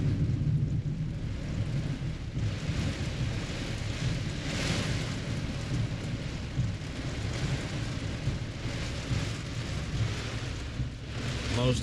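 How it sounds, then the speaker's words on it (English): Heavy rain from a severe thunderstorm pounds a rooftop tent, a loud, steady broadband roar that stays dense and unbroken throughout, with low rumbling beneath it. "this is a pretty serious storm coming through. It's a severe thunderstorm warning where we're at."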